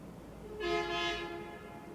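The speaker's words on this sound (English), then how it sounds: "They're honking at us." A train horn sounds once in a steady harmonic blast of about three-quarters of a second, moderately loud over a quiet background hum.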